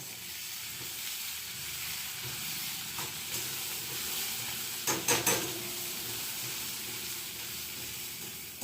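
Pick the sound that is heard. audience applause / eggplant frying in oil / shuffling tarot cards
eggplant frying in oil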